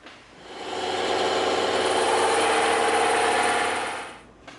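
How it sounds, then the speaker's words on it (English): A bandsaw slices through thick EVA foam, a steady loud whir that ramps up, holds for several seconds and trails off at the end, with no voices. "now we can cut these end cuts out on the bandsaw"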